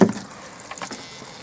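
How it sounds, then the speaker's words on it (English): Hot water running from the sink tap in a 1993 Fleetwood Garland 165-4 touring caravan, a soft close splashing flow after an opening knock. "That's the hot water working."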